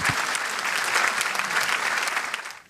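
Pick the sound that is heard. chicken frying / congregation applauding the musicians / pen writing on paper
congregation applauding the musicians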